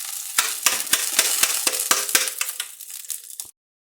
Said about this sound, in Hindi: ये जो मैंने खजूर को ग्राइंड किया था ना, तो इसको मैं अब कढ़ाई में डाल दूंगी।